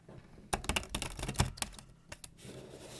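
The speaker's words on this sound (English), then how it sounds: "I know it's not good to shuffle your cards," A quick flurry of soft papery clicks and flicks of Magic trading cards being shuffled, close and busy for a couple of seconds before trailing off.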